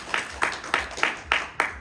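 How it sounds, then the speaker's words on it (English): Evenly spaced claps ring out about every third of a second, crisp and fairly close, from a small audience at a fan convention Q&A panel, with no talking over them. "You can applaud them."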